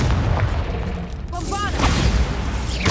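A Confringo fire spell explodes in Hogwarts Legacy, a booming blast over continuous rumbling battle noise, with a few sharp magical whooshes and a burst near the end.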